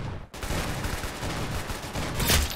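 Rapid gunfire in a Roblox shooting game, a dense sustained volley of shots running through the whole stretch, loud and close, with a sharper burst near the end.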